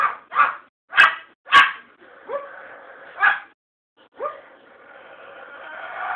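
A pet bird imitates a dog's bark, giving a series of sharp, close barks at an uneven rhythm, followed by longer drawn-out growling calls, with no human speech.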